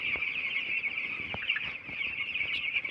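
Broiler chickens about twelve days old cluck and chatter continuously in a poultry shed with rice-husk bedding, a dense steady flock murmur with occasional sharper calls, no talk.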